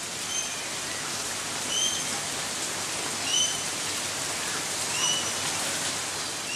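Light monsoon rain falls steadily on a billabong, a soft, even hiss of drops with faint bird calls chirping at intervals in the background.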